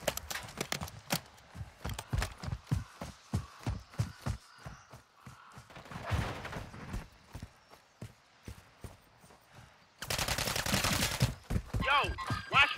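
Gunfire in a Modern Warfare III match, a rapid series of sharp, evenly spaced shots at close range, followed by a scattered burst and a louder stretch of firing.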